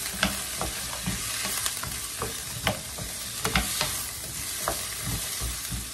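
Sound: stir-frying cassava with salt and sugar in a pan

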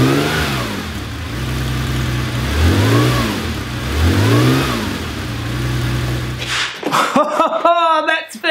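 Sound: Porsche 911 2.8 RSR engine revving through custom exhaust

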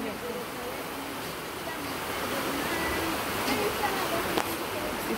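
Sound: river flowing

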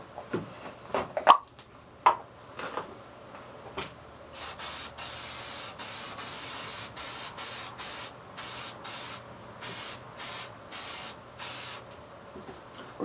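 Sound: aerosol clear coat spray

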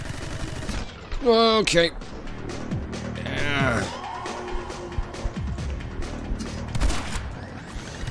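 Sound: shotgun firing in video game My Friend Pedro

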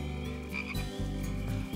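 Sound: frogs croaking at night

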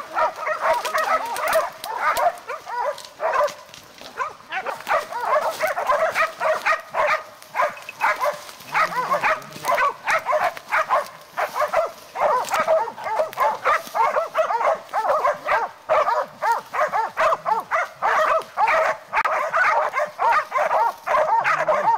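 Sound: hunting dogs baying at a hog

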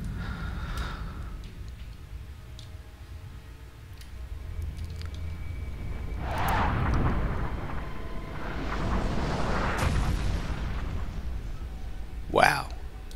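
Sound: explosion in X-Com Reimagined video game intro cutscene

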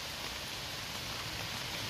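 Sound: rain falling

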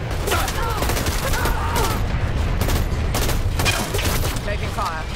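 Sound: gunfire in the video game Dirty Bomb

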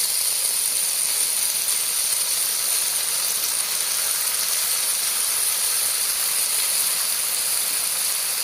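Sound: frying and stirring vegetables and dal for khichuri

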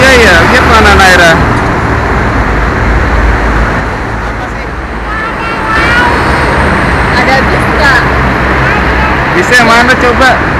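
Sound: traffic on Jakarta-Cikampek toll road with buses and trucks, from bridge

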